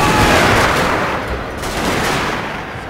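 Dense rolling musket and rifle volleys from a samurai-era siege battle in Fall of the Samurai, a loud continuous crackle of many shots that eases slightly mid-way, then swells again, with no talking.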